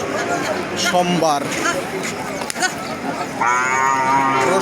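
Bulls moo loudly several times, long drawn-out calls close by, over a background of people talking and crowd murmur at a weekly cattle market in Ghoraghat, Dinajpur.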